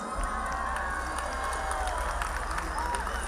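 A lively crowd at a Lima timbales performance cheers and claps, a dense, continuous roar of voices with scattered shouts and claps, fairly distant and steady throughout.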